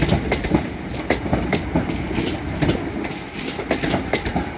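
Class 323 electric train in London Midland livery pulling into Manchester Piccadilly, wheels beating a rhythmic clickety-clack over rail joints close by, with a steady rumble underneath.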